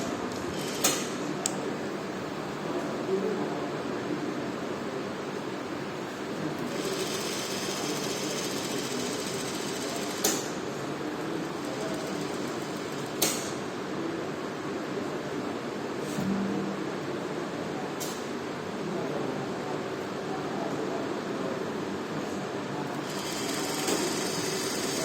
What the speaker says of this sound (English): So this is the front part dart which we are stitching right now.